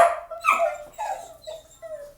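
Dogs react at the front door after a rare knock, giving a few sharp barks and yips mixed with whimpering, in separate bursts at moderate volume with no talk.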